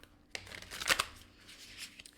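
A deck of Banksy oracle cards being shuffled by hand, a quick papery riffle with a sharp flutter at its peak, close and fairly quiet, with no talk.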